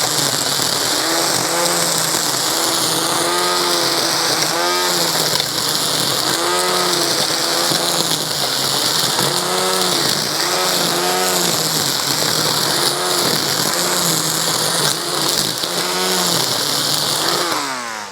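A battery-powered string trimmer in eco mode whines steadily while cutting thick grass, its pitch dipping and recovering again and again as the line bogs down in dense growth, loud and close throughout.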